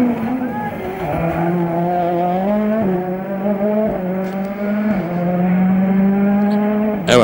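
A Ford Fiesta S2000 rally car with a 1.6 turbo engine at the 2012 Rallye 1000 Miglia, heard onboard as a loud, continuous high engine drone that dips briefly at several gear changes.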